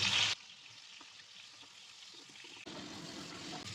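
Two tomatoes with four dried red chillies, garlic, a green chilli and salt fry quietly in oil, giving a soft, fairly low sizzle that drops away briefly and then picks up again.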